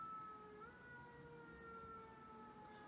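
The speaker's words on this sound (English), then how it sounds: "Sorry about the sirens." A faint, distant siren wails in long steady tones with a slight pitch shift, heard over a low hum of a very busy city.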